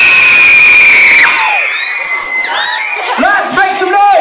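A crowd at a college concert screams and whoops in piercing, high-pitched bursts, a long sustained shriek fading into scattered yells and cheers, loud and close.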